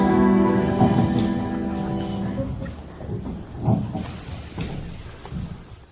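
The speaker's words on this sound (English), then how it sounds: "The storm was approaching." A thunderstorm closes in at nightfall, with deep rolling thunder rumbling over a steady wash of rain, the booms swelling and fading in loud waves.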